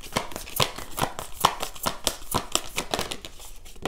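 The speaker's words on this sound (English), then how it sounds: "I'm going to do a live shuffle." Tarot cards riffled and shuffled by hand close up, a steady run of quick crisp flicks and slaps carrying on without pause through the whole stretch.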